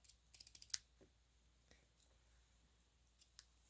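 Scissors trim a paper card element, with a quick run of crisp close snips and a sharper final cut, followed by a few faint clicks of paper handling in a quiet room.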